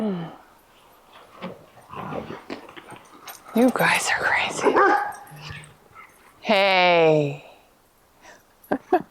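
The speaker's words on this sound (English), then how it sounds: "sorry the dogs are wrestling" Dogs wrestle in play with bursts of yips, whimpers and short barks, including one long, loud whine. A person speaks briefly between the noises.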